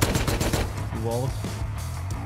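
Gunfire in the survival video game Rust, a rapid burst of loud shots in the first half second over constant game noise, followed by a voice talking excitedly.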